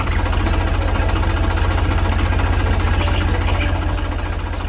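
An animated green and yellow tractor working in a farm field runs with a steady, loud, rhythmic engine chug that idles evenly throughout, with no voices over it.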